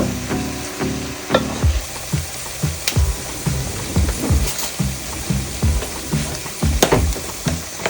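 Onions and raisins sauté with a ladle of sauce in a pan for Moroccan chicken couscous tfaya, giving a steady close sizzle broken by repeated scraping stirs and soft clinks, with no voices.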